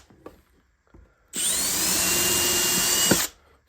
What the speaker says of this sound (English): Now for the bottom, I'm gonna pilot hole a couple screws.